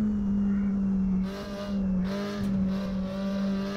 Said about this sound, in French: Ah, ce moteur, il est rageur, hein.